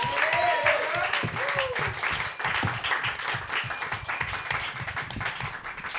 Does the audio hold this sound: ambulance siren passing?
no